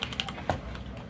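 Keys click on a SteelSeries Apex Pro keyboard with OmniPoint switches, three or four distinct close taps in quick succession over a quiet background.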